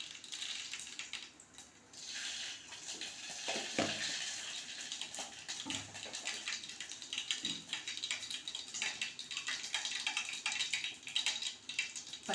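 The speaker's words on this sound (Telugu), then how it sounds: "నేనైతే జీలకర్ర ఆవాలు వేస్తున్నా." Cumin and mustard seeds dropped into hot oil, giving a steady crackling sizzle with light spattering pops, fairly faint and continuous throughout, with no voices.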